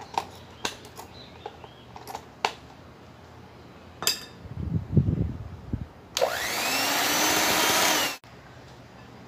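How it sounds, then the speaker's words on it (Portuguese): Utensils clink a few times, then an electric hand mixer whips creamy coffee with a loud, high, steady whir for about two seconds before cutting off abruptly. "Agora vamos bater tudo com a batedeira."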